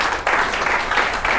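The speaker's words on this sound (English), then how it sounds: "Come on, a round of applause." A brief burst of audience applause fills a seminar room, a dense and fairly loud clapping wash that swells slightly partway through and holds with no voice over it.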